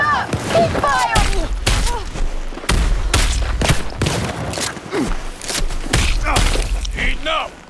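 Heavy, rapid gunfire from a video game fills the scene, with dense bursts of shots and booming thuds close and loud, nearly continuous with brief pauses, while voices shout over the barrage.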